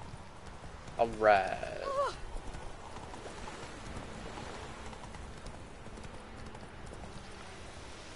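Roach, a horse in The Witcher 3, clip-clops in a short burst of hoofbeats over soft rain-like ambience, with a brief spoken word and a faint whinny-like tone early on, then quiet.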